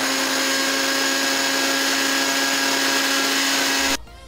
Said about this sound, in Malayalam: വെളുത്തുള്ളി, കുറച്ച് ഇഞ്ചി, പിന്നെ നമ്മുടെ മല്ലിയില, മല്ലിച്ചപ്പ്, അത് മൂന്നും കൂടെ അങ്ങോട്ട് ഇട്ടിട്ട് ഒരു മിക്സിയിലിട്ട് അങ്ങോട്ട് ആക്കിച്ചെടുക്കും